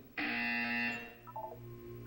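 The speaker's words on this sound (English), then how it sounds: "When you hear the buzzer, look up at the ceiling." A single electronic buzzer sounds in the video game Portal 2, a loud steady harsh tone lasting under a second, followed by a few faint short beeps.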